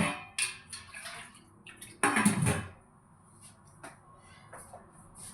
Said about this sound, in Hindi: तो 2 कटोरी में आधा कटोरी पानी डालूंगी।